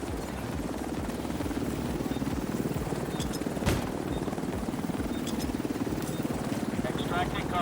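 A helicopter arriving in The Division video game, its steady chopping rotor thrum running throughout beneath game voice callouts, with a sharp single crack partway through and brief electronic chirps near the end.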